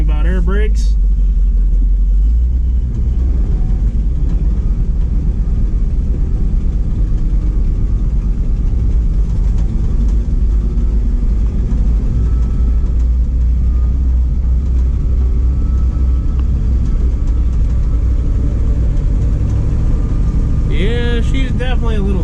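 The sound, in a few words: Ford F700 salt spreader truck engine running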